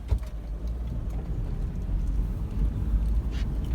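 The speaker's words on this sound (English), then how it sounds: "the truck's running, they're really nice and quiet" A Suzuki Carry mini truck fitted with tracks sits with its engine running, a steady low, quiet rumble that holds evenly throughout with no voices.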